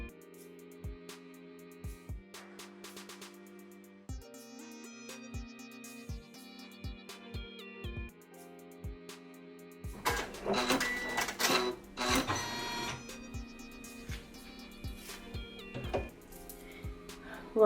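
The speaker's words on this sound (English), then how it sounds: "And now I'm going to continue with the tack down stitch." Embroidery machine running a tack down stitch, a steady mechanical whirring with rhythmic ticking needle strokes, close and continuous, growing busier and louder midway.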